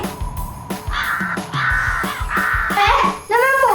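Several crows caw repeatedly and loudly close by, harsh overlapping calls in quick succession, with a person speaking briefly near the end.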